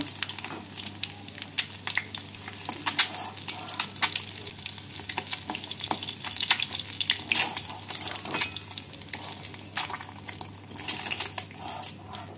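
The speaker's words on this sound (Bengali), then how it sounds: "বাকি ডিমগুলোকেও একইভাবে ভেজে নিচ্ছি।" Eggs frying in hot oil in a pan for a dim posto dish, a steady close crackling sizzle with dense popping spits throughout and no talking.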